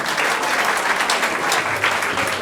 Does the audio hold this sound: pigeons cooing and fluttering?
no